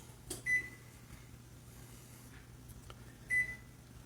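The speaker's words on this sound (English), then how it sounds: "So I'm going to set the timer for 8 minutes." An oven timer gives two short electronic beeps about three seconds apart, quiet and close, over a faint steady hum.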